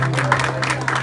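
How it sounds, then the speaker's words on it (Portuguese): Congregation clapping during an evangelical church service, a short burst of crowd applause over a steady low hum, with voices mixed in. "Aplauda o Senhor Jesus"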